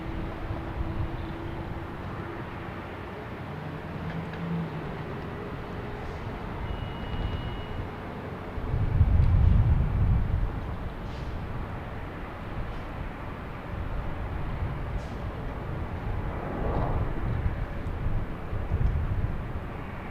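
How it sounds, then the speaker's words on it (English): Southwest Boeing 737-800 jet taking off at Boston Logan, heard as a broad distant roar that swells midway and stays steady, no voices. "Next taking off is a Southwest heading to Baltimore Washington Airport."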